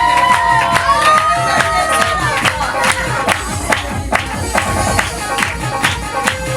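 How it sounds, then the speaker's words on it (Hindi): Audience at a Christmas church event clapping and cheering, lively rhythmic applause with shouts and whistles, loud and close over background music. "जोरदार तालियां"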